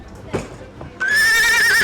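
A young horse at a racecourse lets out a loud, sustained whinny that rises sharply after a second of quieter stirring and clopping sounds.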